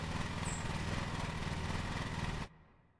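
A lawn mower engine in the game Lawn Mowing Simulator drones at a steady, buzzing pitch, loud and close, then cuts off abruptly near the end, leaving quiet.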